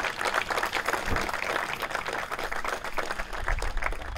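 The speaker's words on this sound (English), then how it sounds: "how about a hand of round of applause for Charlie for that?" Outdoor crowd at a park dedication ceremony giving a round of applause, many hands clapping in a dense, uneven patter that stays steady and fairly close throughout, with no voices over it.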